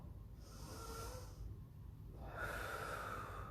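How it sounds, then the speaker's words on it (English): Slow, deep belly breaths during a full-body mobility exercise, close and soft, with a long airy exhale followed by a rushing inhale over faint low background hum. "Now you're going to finish with 10 very big belly breaths."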